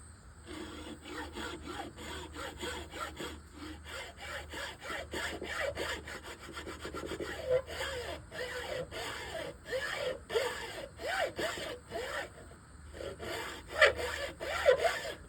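A hand saw rasps through wood in steady back-and-forth strokes, close and fairly loud, while junk is being upcycled into something useful, with the rhythm speeding up and slowing between passes and no talking.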